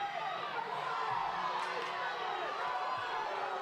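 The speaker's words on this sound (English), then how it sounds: "Seemed like the crowd's yelling for a face mask" Crowd noise at a community college men's football game, a steady wash of yelling and shouting spread across the stands, carrying on without a break and mixed with a commentator's voice.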